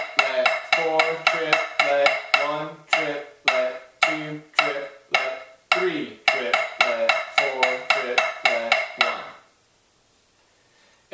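Snare drum playing a triplet-diddle exercise of triplets followed by a tap roll, crisp rapid strokes in a steady rhythm, close and clear, ending with a short silence.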